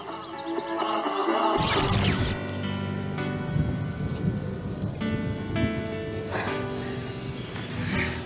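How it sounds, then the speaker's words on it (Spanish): Steady rain pours down with a loud crack and roll of thunder near the start, then a continuous dense hiss of falling rain with a further faint rumble, no voices over it. "esperemos a que pare de llover"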